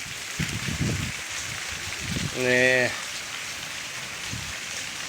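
Steady rain patters down in Porbandar as a constant hiss while someone speaks briefly over it, and a short tonal sound rises above the rain midway.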